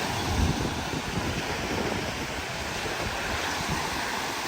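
Sea waves wash steadily onto Benidorm beach in a continuous, fairly loud surf roar with gusty wind buffeting the microphone throughout; no voices.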